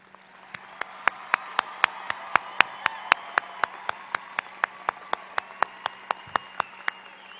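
Commencement ceremony clapping comes as a steady, evenly spaced run of single sharp claps over a low hum in a large hall, sounding more like one measured clapper than a full crowd.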